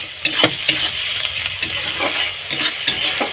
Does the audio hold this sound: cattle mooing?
no